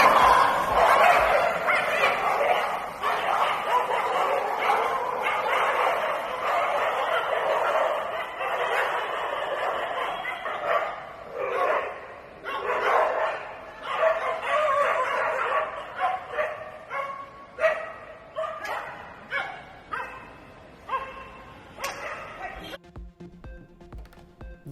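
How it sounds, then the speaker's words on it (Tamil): Dogs bark and yip repeatedly at Chennai airport, a busy run of overlapping barks that grows choppier and more spaced out toward the end, with people's voices mixed in underneath. "சென்னை விமான நிலையத்தில் நாய்களின் அட்டகாசத்தால் கதி கலங்கும் பயணிகள்."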